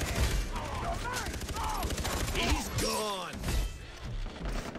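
Rapid gunfire in the video game Far Cry 3 crackles in quick bursts and scattered shots, with swooping electronic tones and game effects mixed in, while players talk over it in a co-op match.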